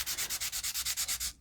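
Quick, even strokes of sandpaper rubbing back and forth on a craft journal window project, about a dozen rasping passes in a steady rhythm, close and alone.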